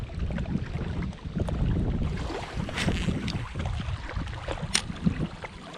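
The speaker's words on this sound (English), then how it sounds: "I guess this wind is blowing right into our face" Wind at a rocky lakeside fishing spot in a county park, a steady low rumbling buffet against the microphone with light water and handling noises, no talk.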